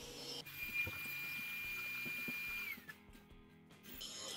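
A P50 Pro Ultra robot mop, with its brush and main carriage raised, spins its mop pads over a chocolate stain on the floor, giving a faint, steady mechanical whir with a thin tone and light intermittent clicks.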